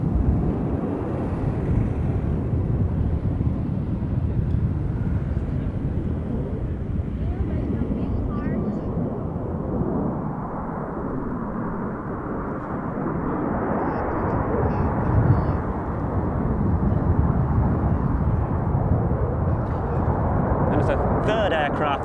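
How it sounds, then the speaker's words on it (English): Black Eagles aerobatic jets at the Royal International Air Tattoo 2022 make a steady, loud roar that sweeps on and on with wind buffeting the microphone, and a commentator talks over it throughout. "As two aircraft pitch up straight in front of us."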